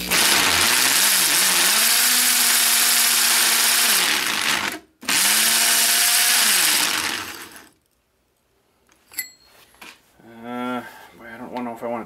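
A power drill with a 2-inch Milwaukee hole saw grinds loudly and steadily through metal plate, wearing the bit down, cutting out briefly, then winds down into quieter clanks and whirring bursts.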